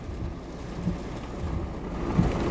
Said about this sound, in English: We're right in the middle of the storm now. It's raining like hell.